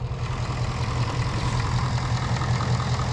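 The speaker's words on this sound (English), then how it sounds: "Silky smooth 5-liter V8." A 2019 Ford Mustang Bullitt's 5-liter V8 idles steadily, heard close up with the hood open. It gives a deep, even low rumble with a smooth, continuous throb and no voices over it.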